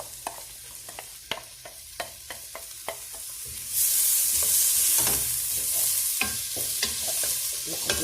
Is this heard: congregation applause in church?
no